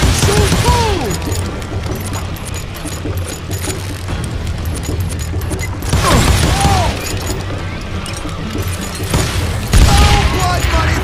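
Gunshots and booms ring out in a Call of Juarez: Gunslinger western shootout, loud blasts recurring over a busy battle din while voices shout and taunt throughout.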